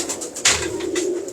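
Pigeons coo softly in a loft of breeder's birds, a low throaty burbling repeated several times up close, with a brief rustle partway through.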